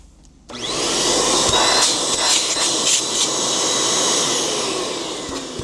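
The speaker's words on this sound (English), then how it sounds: "Very strong, kind of very strong vacuum there." A TROURAY ash vacuum cleaner switches on after a brief quiet moment and runs with a loud, steady roar and hiss, close by and alone, the motor holding an even drone to the end.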